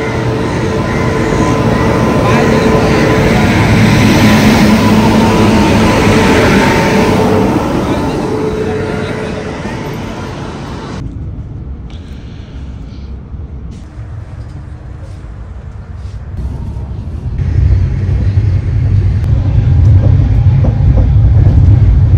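A train rumbles loudly into a station on a cold night, a broad roar that eases midway and swells again toward the end, with people talking nearby.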